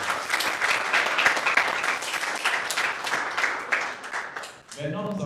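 Studio audience at a children's eloquence TV contest applauds the three young contestants, steady loud clapping for several seconds before cutting off near the end as a voice begins.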